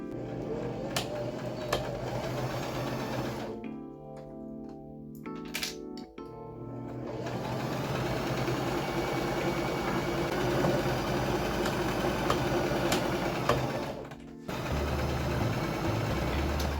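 A sewing machine runs steadily along a tote bag seam, a continuous close whir that stops briefly partway through and then resumes.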